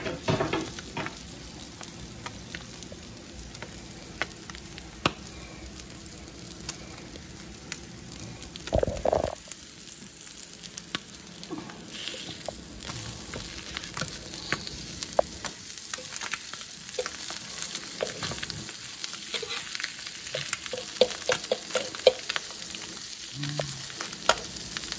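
Eggs and sausages frying together in a breakfast pan, a steady close-up sizzle and crackle lasting throughout, broken by occasional scrapes and stirring clatters as the food is moved around.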